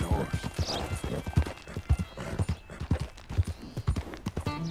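Horse hooves clip-clopping in the Red Dead Redemption 2 video game, a steady, close, rhythmic walking gait with a brief spoken line over it.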